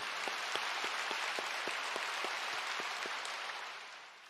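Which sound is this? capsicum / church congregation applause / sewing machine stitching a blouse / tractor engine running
church congregation applause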